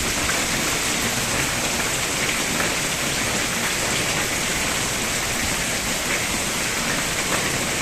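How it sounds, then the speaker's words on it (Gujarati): Heavy rain with gusting wind pours steadily, a dense, continuous hiss of drops beating on surfaces close by, holding an even, loud level throughout with no voices. "ઉછવાટા સાથે પવન વાઈ રહ્યો છે."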